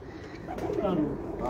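Pigeons coo softly and close by in a short burst, low throaty murmurs under a voice talking over them.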